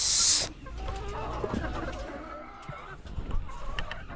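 Chickens cluck and murmur close by in a steady low chatter, following a brief loud burst at the very start.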